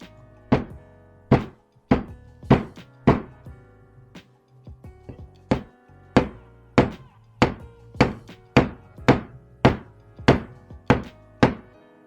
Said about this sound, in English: If you hit it with the hammer, you got to be careful not dent the end cap.